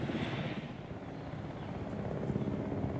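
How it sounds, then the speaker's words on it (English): Helicopter in the Jurassic World Evolution video game, a faint, steady rotor whir and engine drone with no talking over it. "Helicopter's back."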